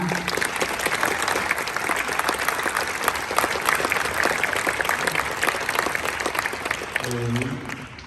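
Audience applause fills a hall at the Kolosy 2021 award ceremony, a continuous dense patter of many hands held steady for several seconds, with a voice briefly emerging near the end as the clapping fades.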